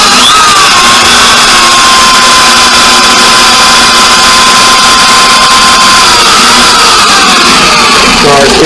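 A 1989 Suzuki RMX 250 vintage two-stroke dirt bike engine runs on its first start, a loud, steady, high-pitched buzz close by, holding one tone throughout and briefly shifting near the end.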